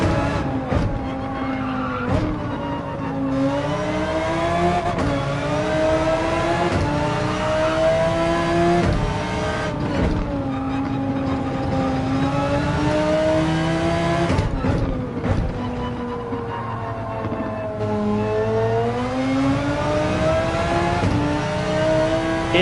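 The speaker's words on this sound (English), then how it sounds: "Yes, the R8 does sound amazing." An Audi R8 in a racing video game, its engine revving hard and rising and falling through repeated gear changes, with tire squeals over a steady, loud, continuous drone.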